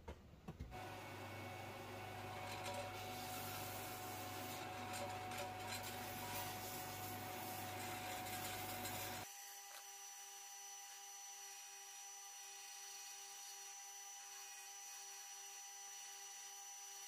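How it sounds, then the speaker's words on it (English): A linisher belt sander shaping a wooden natural slingshot, heard as a steady, loud grinding whir that runs without a break and then suddenly drops to a quieter motor hum as the wood comes off the belt. "instead of using a linisher like you've just seen me using, you can get yourself a dowel and some sandpaper."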